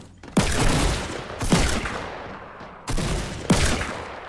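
Four loud, sharp revolver shots in a video game, each followed by a long booming echo, spaced roughly a second apart with no talking.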